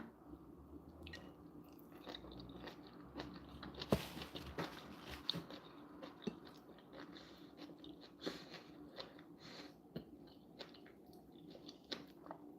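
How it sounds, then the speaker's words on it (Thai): Blanched vegetables are chewed close up with soft, wet, repeated bites and munching, faint over quiet room noise. "ชอบกินผักผักลวก"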